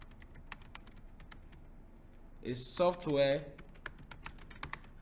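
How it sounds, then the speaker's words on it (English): Keys clack in irregular quick taps on a nearby computer keyboard, briefly interrupted by a short burst of speech. "Let me start typing"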